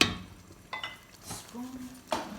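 Tomatoes going into a pot of chili: a few scattered clunks and scrapes of stirring with a light sizzle underneath, fairly quiet and close, with brief pauses between sounds.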